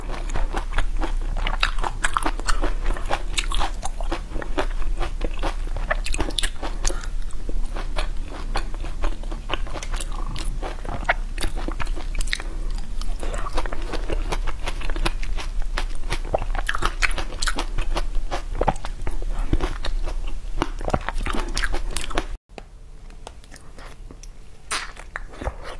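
Close-miked ASMR eating of fruit and small jellies, with dense, continuous wet chewing, biting and soft crunching throughout, then a sudden drop to a quieter section near the end; no talking.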